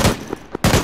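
Video game gunfire, loud close bursts of shots separated by brief gaps, with a couple of sharp single reports between them.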